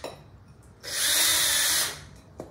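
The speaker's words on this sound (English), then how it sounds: "the purpose of the tape was to help the drill bit get started" Diamond-tip bit drilling through a ceramic plate, with tape on the surface to keep the bit from wandering, gives a loud, steady grinding whine that starts abruptly, holds for about a second, then cuts off, with quiet room tone on either side.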